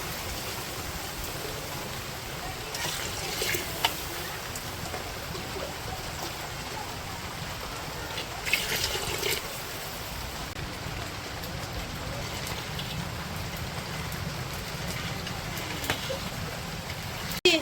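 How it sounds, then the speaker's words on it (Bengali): Steady rain falls throughout in a rural Bangladeshi home setting, a continuous even wash of drops with a few brief louder splashes, no talk. "বৃষ্টির কারণে আমি যাইতে পারি না, বৃষ্টি কমে না।"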